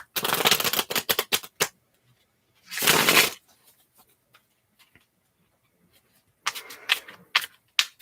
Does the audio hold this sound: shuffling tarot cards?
yes